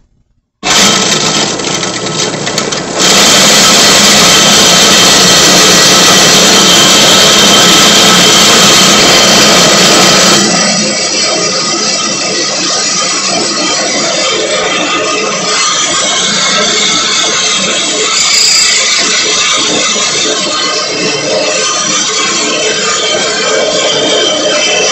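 A heavy duty Chinese electric grain mill grinds grain with a loud, steady motorized whir and grinding roar, harsher and fuller at the start, then continuing evenly for the rest of the stretch with no talking.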